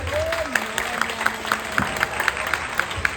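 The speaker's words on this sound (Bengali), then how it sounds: "একটু হাততালি দাও যদি ভালো লাগে" Light, scattered hand clapping from a small audience at an inauguration event, with sharp claps at a steady pace over a background of murmuring voices and faint tones.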